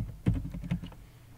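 Keystrokes on a computer keyboard while entering a variable name in SPSS, a short burst of several quick, close taps with no talking.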